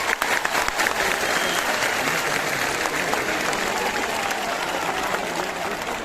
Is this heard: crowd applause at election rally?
yes